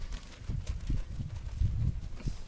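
Hooves of a spotted gaited horse clip-clop in a soft, uneven walking rhythm, several muffled footfalls close by and fairly quiet, with no talking.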